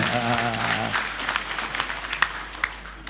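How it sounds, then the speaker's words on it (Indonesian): An audience applauds at an evening launch event marking the 49th anniversary of Central Sulawesi province, with broad steady clapping taking over after a speaking voice ends early on and continuing at moderate level with a few sharper claps. "Kita beri tepuk tangan untuk ulang tahun."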